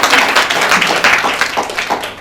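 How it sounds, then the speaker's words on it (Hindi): Applause welcoming a guest at a literary award ceremony, a dense crowd clapping loudly and continuously throughout, with no break. "सदन से अनुरोध करूंगा तालियों से उनका स्वागत और सम्मान किया"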